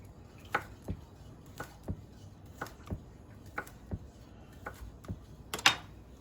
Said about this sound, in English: Cut up the sausage into half moons.